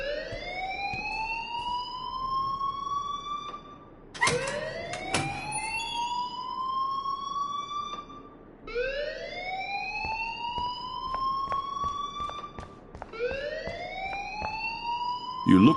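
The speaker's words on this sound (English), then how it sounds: "please turn off that alarm since that's your job" A wailing electronic alarm rings in the game Life is Strange, rising sweeps repeating roughly every four seconds, loud and steady with brief clanks between cycles.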